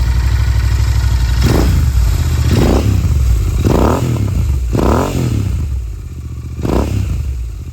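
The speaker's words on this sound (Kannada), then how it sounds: "ಲೈಟಾಗಿ ರೆವ್ ಮಾಡ್ತೀನಿ" A motorcycle engine revs lightly in about five short throttle blips, each rising and falling over a steady idle, close by with no talking.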